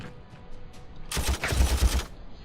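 A Sternguard squad opens fire in a Warhammer 40,000 Armageddon strategy game, a loud, dense burst of rapid gunfire and crackling impacts lasting about a second over a quiet ambient background.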